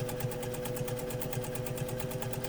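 A 1955 Singer 201-2 vintage sewing machine stitches steadily at close range, its even, rapid needle rhythm humming along with a faint motor whine and no talk.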